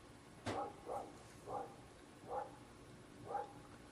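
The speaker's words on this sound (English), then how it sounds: "that's my neighbor's dog barking" A dog barks five times at a distance, spaced roughly evenly, faint against a steady background hiss.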